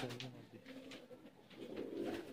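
Ferozpuri pigeons coo softly in a low, rolling murmur that carries on throughout, with a voice talking over them.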